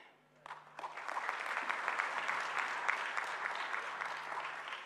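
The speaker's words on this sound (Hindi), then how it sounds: "ये तालियों में दम नहीं है" An indoor audience at a business association event claps together, with steady sustained applause that swells after a quiet start and carries on evenly throughout, loud and close with no voices over it.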